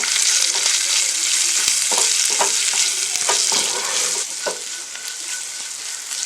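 Chopped papadam pieces fry in a pan with curry leaves and thinly sliced green chillies, giving a loud, bright, continuous sizzle broken by several sharp scrapes of stirring that ease slightly toward the end.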